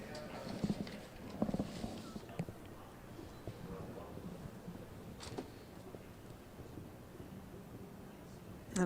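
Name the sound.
horse galloping in show jumping arena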